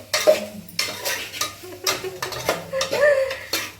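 Noodles stirred in a cooking pot with a utensil, a run of rhythmic scraping and clinking strokes against the metal, close and fairly loud, with faint sizzling beneath and no talk.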